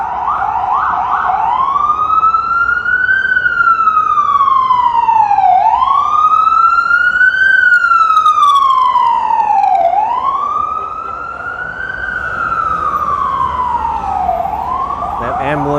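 An ambulance siren wails past in Flatbush Avenue traffic in New York City as the vehicle drives on the wrong side of the road. The sweeping rise-and-fall tone is loud, close and continuous, easing slightly near the end.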